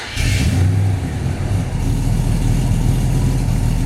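A 1955 Chevy Bel Air hardtop with a 350 V8 fires up cold and idles with a deep, steady rumble as it backs slowly out of a garage, close and continuous.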